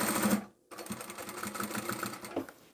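Sewing machine stitching bias binding onto a fabric placemat, a close, steady rapid mechanical whir that stops briefly for a moment and then resumes at an even pace.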